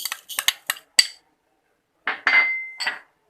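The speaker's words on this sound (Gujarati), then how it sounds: "હવે આપણે આ બધાને મિક્સ કરી લઈશું" A spoon clinks against a bowl as stuffed-chilli masala with sev, sugar, salt, fennel and coriander-cumin powder is mixed: a quick run of sharp metallic taps, a pause, then a few more scraping clinks, close and clear.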